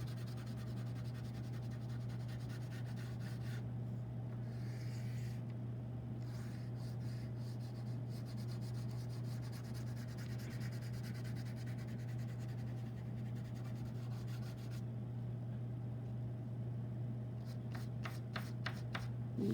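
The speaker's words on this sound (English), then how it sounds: "I'm just going to start to make some shading" A drawing stick is rubbed on its side across paper to shade, giving a soft, steady scratchy rubbing with short bursts and pauses, close and quiet over a faint constant hum.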